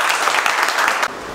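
A class of students at a mobile phone repair training session claps loudly and evenly for about a second, then the clapping cuts off sharply.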